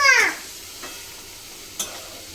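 Spice paste for a fish stew frying in a pan, giving a short, bright sizzle at the start that quickly dies away, followed by near quiet with a couple of faint stirring scrapes.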